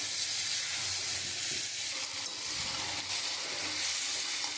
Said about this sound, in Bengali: আমি মশলাটা দিয়ে দিয়েছি, এবার খুব ভালো করে আমি